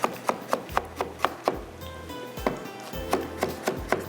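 A knife chops food into fine slices on a board in a quick, even rhythm. The crisp taps are close and clear, with a short pause midway, and no one speaks.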